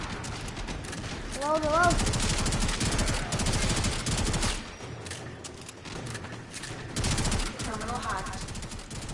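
Dense, rapid gunfire from the game Warframe, a continuous rattle of shots through most of the stretch, with someone speaking briefly over it.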